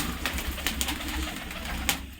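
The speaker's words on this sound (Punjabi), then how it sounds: "ਚਿੱਟੇ ਸਫੈਦ ਕਬੂਤਰ ਹੈ ਇੱਧਰ" White pigeons in a loft full of nesting pairs, eggs and chicks give soft, low cooing over a steady background murmur, with a few brief sharper sounds close by.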